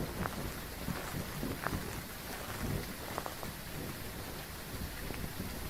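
Steady rain falls through a stormy night in the horror game Phasmophobia, a continuous broadband hiss with scattered heavier drops and faint rumbling, holding an even, fairly loud level throughout with no talking.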